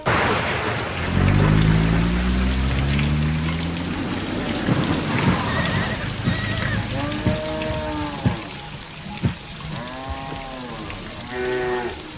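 Steady heavy rain falls on surfaces with a low rolling rumble of thunder in a Malayalam film scene, later joined by wavering tonal sounds and faint voices.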